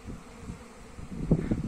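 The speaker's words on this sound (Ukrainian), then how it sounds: "Молода бджола обліталася" Carniolan honey bees flying around a shortened hive entrance on a warm, nearly windless day, a low close buzzing that rises and falls as individual bees pass, alone without talk.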